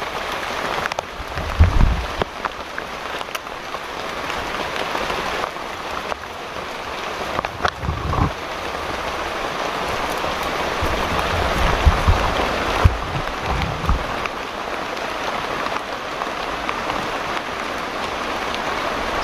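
Steady rain falls on a tarp outdoors, a dense continuous patter with occasional louder thumps, close and fairly loud throughout.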